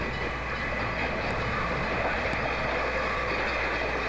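A Hokuriku Railway Ishikawa Line electric train with old nose-suspended traction motors rumbles steadily past on a curve between houses, a continuous even roar throughout with no voices.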